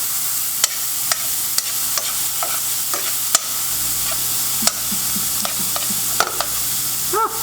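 Pork stir-frying for lo mein, a constant loud sizzle with sharp metallic scrapes and clanks of the spatula against the pan at irregular intervals, no talking.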